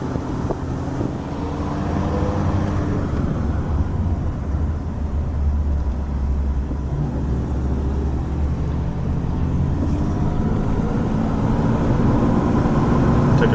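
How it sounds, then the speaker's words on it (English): A car climbs a hill in the small town of Freedom, Pennsylvania. The engine holds a steady low rumble throughout, with wind buffeting the microphone and no talk. "Take a drive up the hill here"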